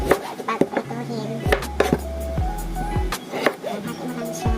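A knife chops eggplant on a cutting board for frying with miso, giving a run of sharp, close, irregular knocks with soft rustling between strokes and no talk.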